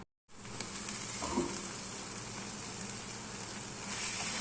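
Mutton keema sizzles steadily in a pan as its water cooks off, a close, even frying hiss that starts abruptly after a brief silence and holds throughout, with faint stirring scrapes.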